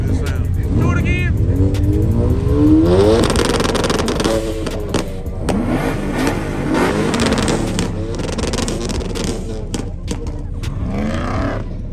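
A ProCharger-supercharged Chevrolet Camaro ZL1 revving at a car meet, loud repeated engine blips and roaring under excited chatter from people nearby.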